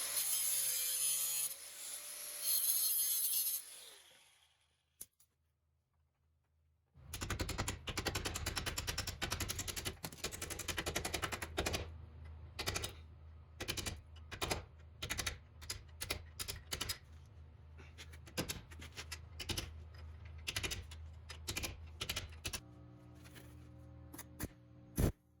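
Metal cutting on the frame of a 1994 Jeep YJ during a front driver-side frame repair: after a brief pause, a harsh, loud grinding rasp runs in long bursts and shorter choppy pulses with gaps between them.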